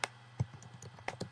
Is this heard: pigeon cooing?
no